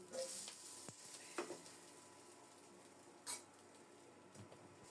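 Bitter gourd slices fry in a little oil in a steel wok, with a soft continuous sizzle broken by a few sharp scraping clinks of a spatula stirring them.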